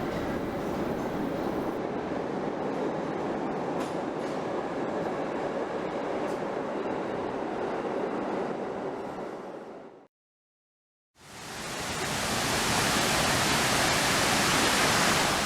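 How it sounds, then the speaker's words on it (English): A New York City subway train roars along the track from inside, a dense loud rush of wheel and tunnel noise that cuts out briefly to silence before surging back just as strong. "We hit the subway early and caught a train to the 9/11 memorial."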